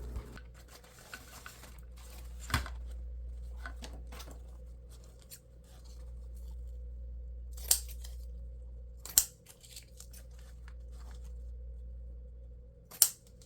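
Scissors snip 1.5-inch ribbon at a slant for a patriotic grapevine and scarf wreath, with soft scattered cuts and a few louder crisp snips spaced several seconds apart over a low steady hum, no voices.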